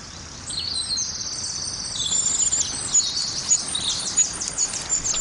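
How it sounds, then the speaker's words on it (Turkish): High, rapid chittering begging calls from a common cuckoo chick being fed by reed warbler foster parents, continuous and fairly loud, with no talking. "Dişi kamışçını yavru gugu kuşunun kızıl gagasından çıkan çağrılara istemsiz bir şekilde karşılık veriyor"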